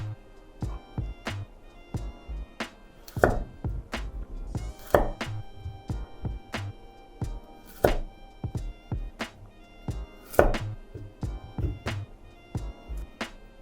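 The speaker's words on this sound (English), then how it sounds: "So I cut it into small sizes than potatoes." Knife chopping carrots and potatoes into small bite-size pieces on a cutting board for nikujaga, a steady run of close, crisp thunks with a few louder strikes and no talk.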